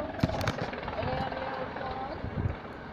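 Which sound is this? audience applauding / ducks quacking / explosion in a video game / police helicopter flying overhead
police helicopter flying overhead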